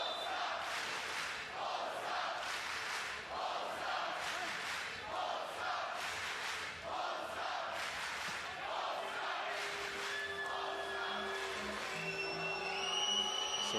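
A large arena crowd at a FIBA 3x3 basketball World Cup game cheers and roars steadily in loud repeated surges, with an announcer's voice and whistle-like tones over the top near the end.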